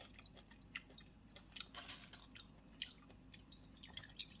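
Close, quiet chewing of kimchi jjigae, with soft wet squishes and small crunchy bites scattered irregularly over a few seconds.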